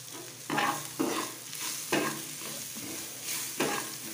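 Spices with chilli powder and turmeric sizzle in a pan for a capsicum curry, a steady frying hiss broken by several scraping stirs of a spoon.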